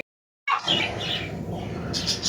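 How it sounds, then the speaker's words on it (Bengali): Cage birds at a bird shop, including a cockatiel, give sharp squawks and chirps close by after a brief silence, with shop chatter and background noise underneath. "দেখো এটা কি পাখি বাচ্চুদা এটা ককটেল পাখি আছে"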